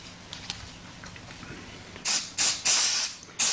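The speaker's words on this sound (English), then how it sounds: "Contact cleaner for that one." Short hissing bursts of contact cleaner sprayed onto the long wave/medium wave switch of a Blaupunkt Hamburg radio, four close, loud spurts in quick succession after a quiet start.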